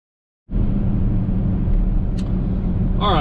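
A Ford pickup called the Danger Ranger starts up suddenly, then a steady, close interior engine and road rumble continues, with a short squeak near the end.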